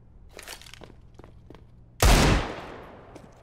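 A single loud Desert Eagle pistol shot in CS:GO cracks out sharply and rings off in a short decaying tail, preceded by a few faint clicks and footsteps.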